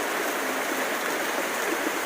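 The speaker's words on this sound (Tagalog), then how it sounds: "Kaya dito tayo sa ulan." Heavy rain falling outdoors during a rainstorm, a loud constant hiss and patter with steady intensity throughout.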